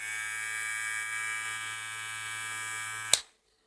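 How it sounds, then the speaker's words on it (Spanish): A Kemei 2269 electric hair clipper runs with a steady, close, bright buzzing drone and an underlying hum for about three seconds, then clicks off abruptly, leaving silence. "este es el sonido de la 2269"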